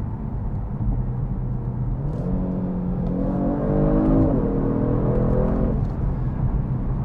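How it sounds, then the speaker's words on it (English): A 2022 Genesis G70 engine drops through a paddle-shift downshift, its steady cabin drone climbing and settling again with a faint exhaust crackle hidden in the rumble, heard from inside the car with no talking. "I actually hear just a little bit of an exhaust crackle there"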